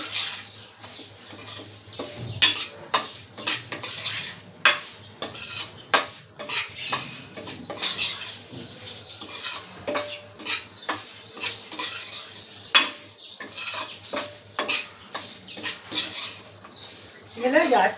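Semolina roasting in ghee in a pan for rava sheera makes repeated metallic scrapes and clinks as a spoon stirs it against the pan. The strokes come in an uneven, steady rhythm over a faint sizzle, close by.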